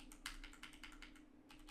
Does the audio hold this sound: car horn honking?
no